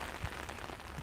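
Steady hiss of rain falling, dense and constant, with a low rumble like wind buffeting underneath.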